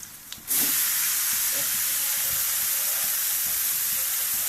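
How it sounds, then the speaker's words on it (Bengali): Steady, loud sizzling hiss of banana stem frying in a pan for a curry with kalai dal, starting abruptly after a short quiet moment and continuing evenly throughout, with faint stirring knocks underneath. "খুব ভালো করে ভেজে নিতে হবে দেখুন"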